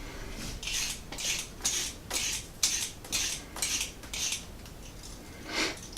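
Several potatoes being peeled with a knife, giving a steady series of short scraping strokes, close and fairly quiet, with no talking.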